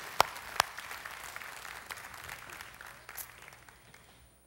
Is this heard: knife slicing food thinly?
no